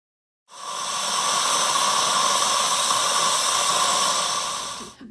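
An Instant Pot cooking beef stew vents steam in a quick pressure release: a loud, steady, unbroken hiss starts abruptly, holds for several seconds, then cuts off.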